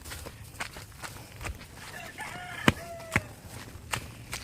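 Chickens cluck and call in the background amid scattered thumps and footsteps, with a couple of sharp knocks standing out.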